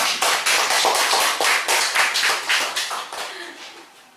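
Church audience clapping together, a dense run of sharp hand claps that starts strong and gradually thins and fades toward the end.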